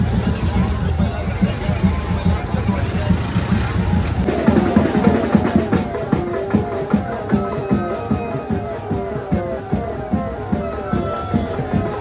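A dense crowd packs the Ekvira palkhi procession, a steady loud hubbub of many overlapping voices with a rhythmic pulsing beat joining in partway through and carrying to the end.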